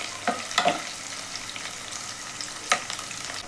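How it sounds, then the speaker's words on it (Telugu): Chopped onion pieces fry in hot oil, giving a steady low sizzle with a few sharp stirring scrapes near the start and one near the end, close and moderately quiet, with no voices. "ఈ ఉల్లిపాయ ముక్కలు దాదాపుగా ఫ్రై అయ్యేంత వరకు కొద్దిసేపు మనము ఆయిల్లోనే వేయిద్దామండి"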